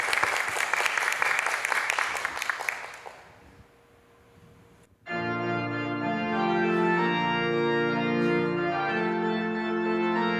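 A church congregation at a Sunday worship service claps loudly for its graduating students, a dense, steady round of applause that fades out over a few seconds before organ or keyboard music begins.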